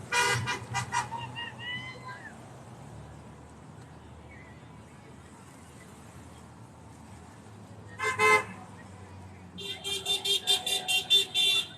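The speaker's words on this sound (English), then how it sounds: "Some of these horns sound funny." Several car horns honk in bursts at a roadside gathering, some deep and some yelpy, with a loud honk near the start, another around eight seconds, then a rapid run of repeated toots at the end over steady traffic rumble.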